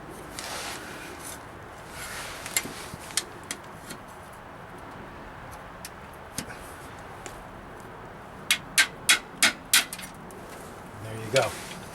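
A flat scraper pries a plastic clip out of the body of a 2003 Chevrolet Silverado truck, with a 4L80E transmission, during shift cable replacement. Sharp close clicks and ticks come in a quick cluster over low background noise.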